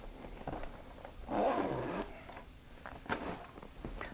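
The front zip pocket of a Trakke Bairn Mini messenger bag is unzipped, with a quiet, close scratchy zipper run swelling in the middle of otherwise soft handling rustles.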